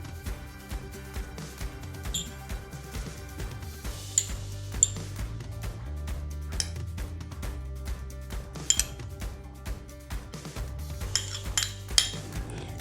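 Maida flour worked together with oil in a bowl for onion samosa dough, giving repeated clinks and scrapes of utensil against the bowl with soft mixing noises, fairly close and without talk.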